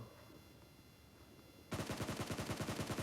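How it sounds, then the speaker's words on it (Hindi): After a quiet stretch of game ambience, a Scar-L assault rifle opens up in hip-fire in a mobile battle-royale game, a loud, rapid burst of evenly spaced automatic shots. "स्कारल बेस्ट है, क्योंकि स्कारल का हिप-फायर अच्छा है"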